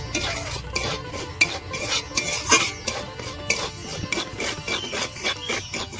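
Semolina dry-roasting in a karahi with no oil, stirred steadily with a utensil, giving continuous scraping and rubbing strokes and light clinks against the pan at close range, with no voices.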